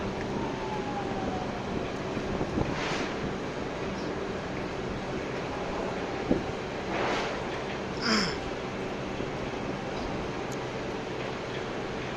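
A boat moving on the water near a cement factory in Dhaka gives a steady, continuous engine drone and broad wash of noise, with a few brief higher tones drifting over it and no talking.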